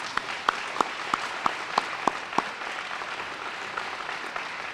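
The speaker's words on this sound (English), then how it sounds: "give him a round of applause right now, please" Audience at a middle school dedication applauds the principal, a continuous soft wash of clapping with a few sharp, louder claps standing out at regular intervals near the start.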